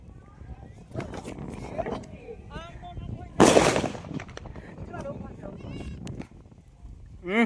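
Sharp bursts of firecrackers pop at intervals, one loud crackling blast standing out, with people talking and calling throughout.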